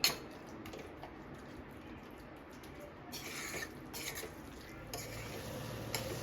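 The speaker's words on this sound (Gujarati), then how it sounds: "બધી જ વસ્તુને આપણે સારી રીતે મિક્સ કરી લઈશું." Paneer bhurji ingredients are stirred in a pan, giving soft repeated scraping and light clinks of a spoon against metal over a faint low sizzle, with no speech.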